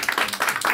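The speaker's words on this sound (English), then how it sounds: "Give everyone a round of applause." Brief applause from the audience at a live band show, a short burst of close clapping that lasts under a second.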